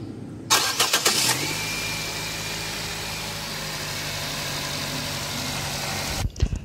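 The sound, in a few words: Nissan Grand Livina engine starting and idling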